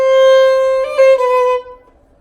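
Violin holding a clear sustained note, then a quick pair of grace notes flicking into the melody line of a Brahms waltz, played close and alone before the last note fades.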